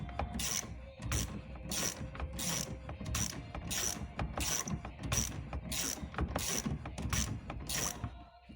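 Rapid, regular ratcheting clicks as the jack tool cranks the spare wheel winch of a Peugeot 5008, about ten strokes in a steady rhythm, close and mechanical.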